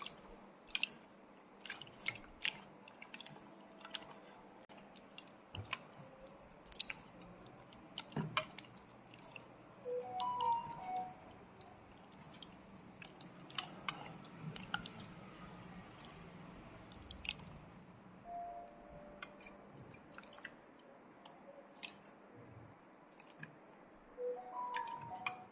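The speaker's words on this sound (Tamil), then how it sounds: "கூழ் பதத்தை கரைச்சிக்கோங்க." Thick fermented millet porridge is stirred with added water by hand at home, making faint, irregular wet squelches, squishes and small drips close by.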